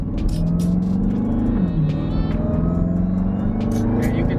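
A supercharged Jeep Trackhawk engine pulls hard under acceleration, a steady loud rumble with a rising harmonic whine and a brief shift dip midway, heard from inside the cabin over road noise.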